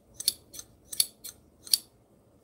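Sewing scissors snap shut with about five crisp, bright clicks in an uneven rhythm, close and clear with nothing else in the background.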